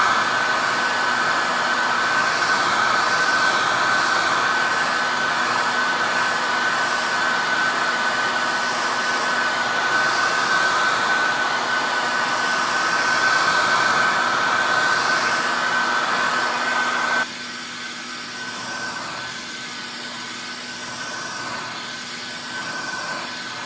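Continuous loud whirring, blowing noise made while removing masking fluid from a watercolor painting of old Christmas ornaments, holding steady for about seventeen seconds before dropping to a quieter level that persists to the end.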